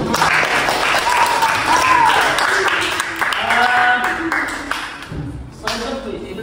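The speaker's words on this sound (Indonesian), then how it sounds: "kita beri tepuk tangan dulu" Applause from a school classroom audience during a teacher training session, steady clapping filling the room with voices talking over and among it.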